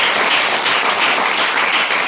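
A large audience claps loudly and steadily at a Telugu Christian sermon, a dense continuous wash of applause with no voices over it.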